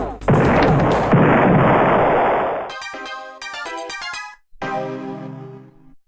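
In the Star Control 2 space combat game, a spaceship turret fires as an intruder approaches: a long burst of harsh static blast, then several ringing, stuttering electronic zaps with brief gaps between them.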